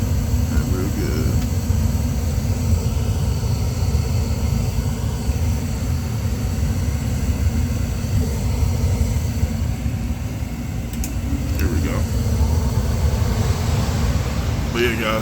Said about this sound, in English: I'm just waiting for my blower motor to kick in